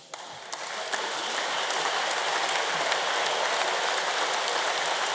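Sustained, dense applause from a large audience at an engineering excellence awards ceremony, steady and loud throughout as award recipients stand to be recognised.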